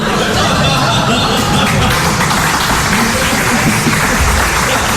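Dense audience applause fills a comedy radio broadcast, steady and loud throughout with crowd murmur and a few chuckles mixed in.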